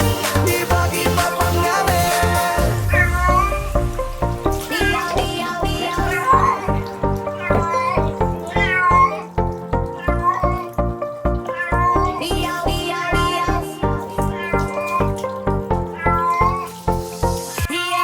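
A black cat being bathed at home meows and caterwauls loudly and almost without pause, with rising and falling cries over running water and occasional splashing.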